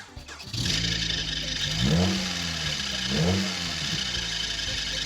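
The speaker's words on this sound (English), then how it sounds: "That dang belt won't stop squealing!" A car's accessory belt squeals as the engine runs, a steady whine carried over a low engine hum, with two rising-and-falling swells as the revs climb, close and alone.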